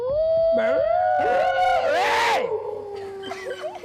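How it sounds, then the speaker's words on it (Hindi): Dogs howl and yelp in overlapping, wavering cries, loud and close, trailing off into scattered higher whines toward the end. "This is some rowdy doggy na barking outside."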